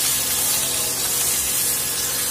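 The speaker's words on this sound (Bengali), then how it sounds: "এরপরে নুন আর হলুদ মাখিয়ে রাখা মাছের মাথা আমি দিয়ে দেব তেলের মধ্যে।" A rohu fish head rubbed with salt and turmeric drops into hot oil and fries. A loud, dense, hissing sizzle fills the whole short stretch and holds steady without pause.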